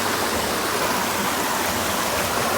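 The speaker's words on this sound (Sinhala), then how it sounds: "වට රැකේ ඇල" A flowing stream at Watareka, Padukka, gives off a steady, close rush of water with no breaks and no voices.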